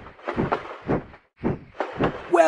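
Cartoon train in the Peppa Pig Train Ride video game coming to a stop, a few chugging puffs that space out unevenly as it slows, ending with a brief bright tone.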